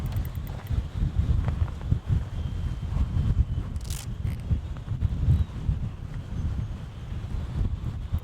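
Wind blowing on the shore during a shore fishing trip in Fuerteventura, a constant low rumbling buffet against the microphone with gusty surges throughout.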